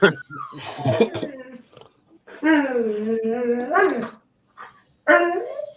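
Dogs in a home bark and let out drawn-out, wavering whines and howls at close range, in several separate outbursts broken by short pauses, with a person's voice mixed in.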